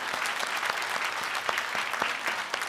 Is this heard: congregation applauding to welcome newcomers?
yes